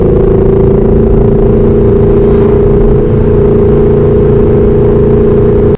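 An 800 whp Ford Mustang driven in second gear, its engine holding a loud, steady droning hum from inside the cabin with a rough low rumble beneath, continuous for several seconds and then cutting off abruptly, without talk.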